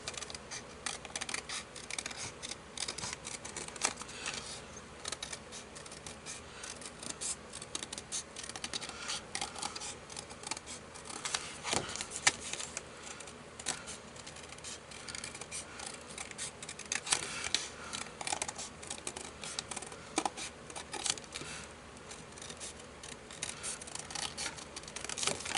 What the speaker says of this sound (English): Just go right to cutting the circle.